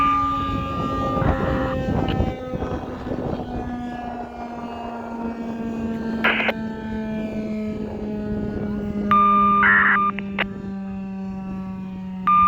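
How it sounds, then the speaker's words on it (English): Outdoor warning sirens wail together during a Wilson County siren test, a sustained droning tone holding steady across the whole stretch with a distant, open-air character and faint background noise. "Now all the sirens are going to go and pull with each other"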